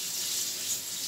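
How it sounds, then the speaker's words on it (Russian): Tap water runs steadily over freshly sorted wild boletus and orange birch bolete mushrooms as they are rinsed in the kitchen, a continuous close hiss with no voices. "Зальем еще раз водой."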